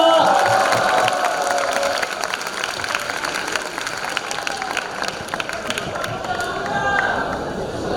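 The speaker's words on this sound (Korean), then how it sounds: "환영의 박수 부탁드립니다." A welcoming audience at a school arts festival in Busan applauds a street dance troupe, with dense, sustained clapping and crowd noise, a few cheers and a brief swell near the end.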